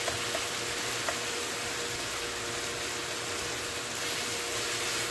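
Chopped tomatoes fry in a pan with ginger, garlic, salt and browned onion for a tomato chutney, giving a steady, soft sizzle and faint bubbling throughout, no voices.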